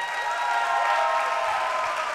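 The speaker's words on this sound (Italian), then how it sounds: "Anderson, fate un applauso a lui." A congregation at a Sunday gospel church service applauds, a steady, dense wash of clapping that holds evenly at full strength for the whole stretch with no talk over it.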